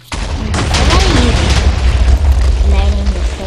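Blocky Minecraft explosions boom and rumble continuously through a Christmas custom map, loud low bursts layered over game music with voices talking over them.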